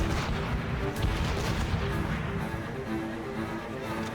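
Ship cannons fire during a naval battle in Assassin's Creed Rogue, with booming shots rumbling under a dense layer of continuous battle noise and sea ambience.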